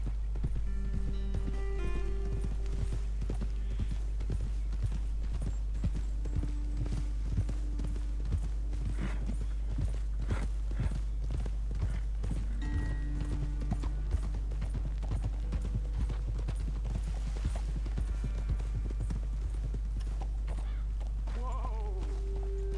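Steady clip-clop of horse hooves in Red Dead Redemption 2 continues throughout at a walking pace, with faint animal bleats and low ambient hum behind.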